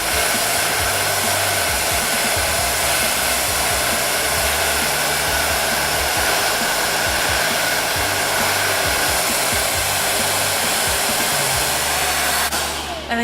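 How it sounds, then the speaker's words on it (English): A hair dryer blow-drying short curly hair with a round brush, a loud continuous whooshing roar held steady from start to finish, close up, with no talking. "can tell when I started blow drying at the roots"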